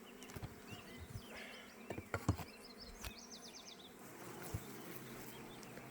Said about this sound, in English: there's bees all the way across